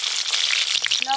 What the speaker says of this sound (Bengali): এবার ট্যাংরা মাছের তেল ঝাল রান্নাটা করে নেব। প্রথমে দেব টমেটো কুচি,